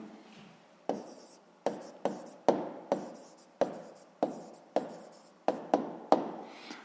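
Pen on paper writing out a maths answer at close range, a run of crisp tapping strokes every half second or so, each with a short fade, with no voices.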